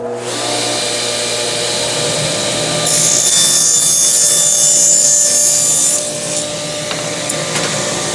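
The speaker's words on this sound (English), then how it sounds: "So let's go ahead and start with our rip cut." A table saw fitted with a CMT orange blade rip-cuts a sheet of plywood, a steady loud whine that rises sharply in the middle as the blade bites through the wood, then eases back toward the motor's spin-down hum, with no talking.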